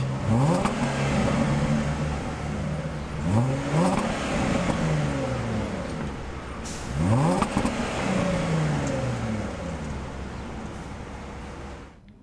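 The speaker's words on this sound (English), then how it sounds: "that was a supercharged V6. Sounds great." The supercharged V6 in a 2016 Jaguar XF sedan revs three times, each a rising then falling engine sweep. The revs are heard close and loud over a steady idle, with no talking.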